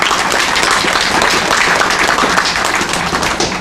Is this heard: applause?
yes